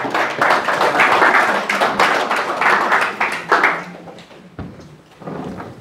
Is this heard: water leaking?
no